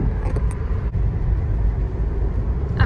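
A car rolls slowly along the quiet Natchez Trace parkway, giving a steady low rumble of engine and tyres heard from inside the cabin, with no talk.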